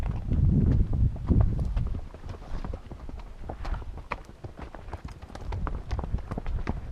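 Hooves clip-clop at a walking pace, close by and fairly loud at first, then continuing as an uneven clatter with some rustling.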